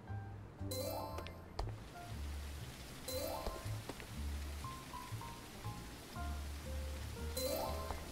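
Steady rain patters across a rooftop pool and terrace area in the game Hotel Renovator, a soft continuous hiss broken by faint clinking sounds and low tonal game noises.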